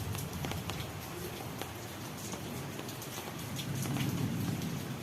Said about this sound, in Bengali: তো দেখতে পাচ্ছেন এখন বর্তমানে বৃষ্টি একটু স্থির আছে।